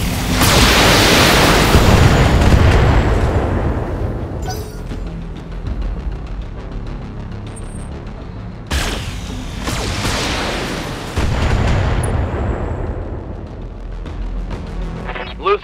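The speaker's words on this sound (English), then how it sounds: "Firing a full salvo." A BattleTech mech unleashes a full weapon salvo in the game, two heavy roaring bursts of booming fire, each decaying slowly over several seconds, loud and close.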